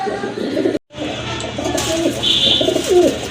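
Close pigeons, including a pair of black chila pigeons, coo in soft, low, throaty murmurs, with a brief dropout near the start and a faint higher chirp later.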